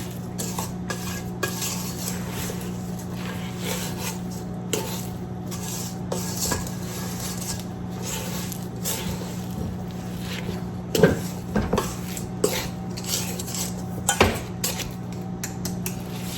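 Raisins are stirred into thick oatmeal cookie batter in a pan with a repeated press-and-turn motion, giving close, soft scraping and occasional knocks against the pan over a constant low background hum.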